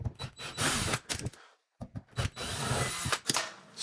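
A power drill whirs in short bursts, backing out small screws from dishwasher mounting brackets, starting and stopping with a brief silent gap, accompanied by clicks and rattling.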